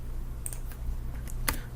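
Quiet keystrokes on a computer keyboard as a number is typed into a statistics program, a few sparse clicks spaced irregularly against faint background hiss, with no voice.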